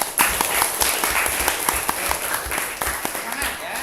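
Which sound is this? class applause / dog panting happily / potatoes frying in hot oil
class applause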